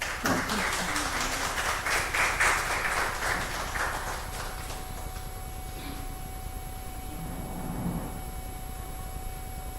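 An audience at a gender-based violence awareness event applauds a presentation. The fairly soft clapping lasts about four seconds, then fades into quiet room tone.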